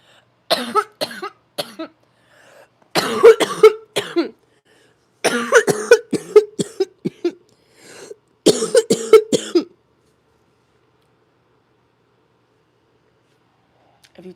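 A person coughs close by in several harsh clusters of rapid fits, broken by short pauses, before the room falls quiet.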